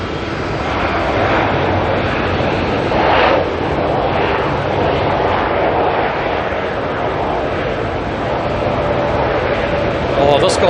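An Airbus A321neo at Auckland Airport makes a broad, continuous engine roar that swells and holds, loud and steady across the scene, with people talking over it.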